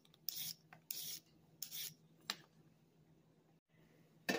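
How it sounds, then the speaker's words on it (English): Carrots grated on a very fine grater, heard as a few short, close rasping strokes with quiet gaps between them, ending in a sharper scrape. "For grating, I like to use this really fine grate."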